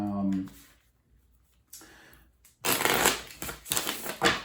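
A 78-card tarot deck is shuffled close by, with a quiet stretch and a brief voice early on, then dense riffling and flapping bursts of cards that build in loudness toward the end.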